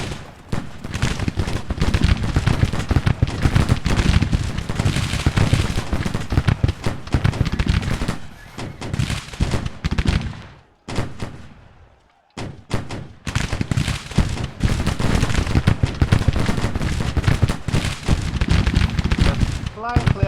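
Rifle volleys in a Grand Tactician Civil War battle crackle almost without pause as dense, continuous distant musketry with thuds mixed in. The firing drops out briefly near the middle, and someone talks over it throughout.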